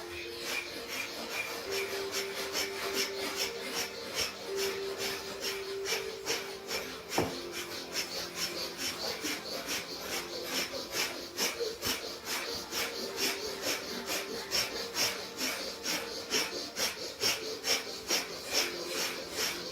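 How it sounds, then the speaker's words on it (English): Rapid forceful yogic breath of fire (bhastrika) during a Kundalini yoga class: fast, evenly paced rhythmic sniffs and exhales pumping through the nose, close and continuous, with no talking. "start Vastika breathing here"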